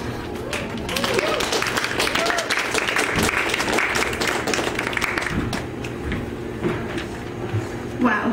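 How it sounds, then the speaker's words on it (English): Audience applauding after a poetry reading at a university poetry slam, steady dense clapping throughout with crowd noise and some cheering. "Let's give another round of applause to Chris"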